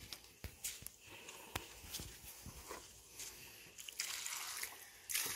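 Water poured into a quick-setting, fast-drying mortar mix makes faint drips, squishes and wet trickles, with scattered soft taps and a thicker sloshing stretch toward the end.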